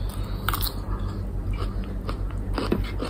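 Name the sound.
chewing charcoal grilled chicken in a mukbang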